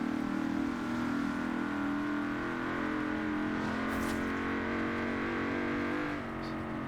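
A car cruises in Forza Horizon 4 under simulation settings, its steady engine drone holding a constant tone with a brief rise partway through, heard without any talking.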